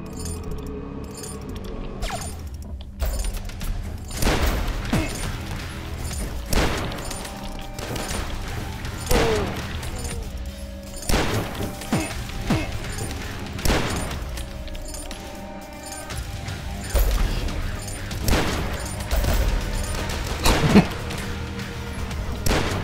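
Explosion of a flamethrower enemy in the game Dusk, a burst of crackling blasts amid rapid gunfire and clattering game effects, repeated bangs spread across the stretch at a steady, loud level with no talking.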